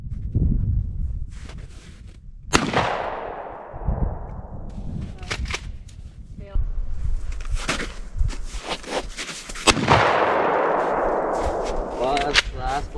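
Gunshots fired during a casual outdoor shooting competition, several sharp loud reports spaced irregularly with echoing decay, some closer and louder than others, with brief talk between shots.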